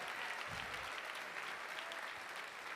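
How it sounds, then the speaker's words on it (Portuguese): A church congregation claps steadily together, a continuous, fairly faint patter of many hands heard alone. "aplaude direito aí em nome de Jesus"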